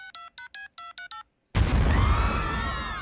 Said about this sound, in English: Damn phone's busted. Maybe I dialed wrong.